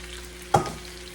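A single brief sizzle bursts out as cabbage drops into hot oil and fat in a pan, then quickly fades back to a quiet background hum.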